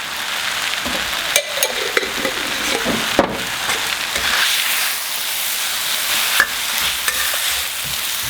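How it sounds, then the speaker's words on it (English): Vegan seafood ingredients for spicy jjamppong noodles are stir-fried in a pan, making a loud continuous sizzle and hiss with occasional clanks and scrapes of the utensil, close up and with no voices. "once they are stir fried like this"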